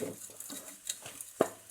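A spoon stirs grated coconut into sugar caramelized until black in a pan, giving quiet, soft scraping with a single brighter clink of metal against the pan.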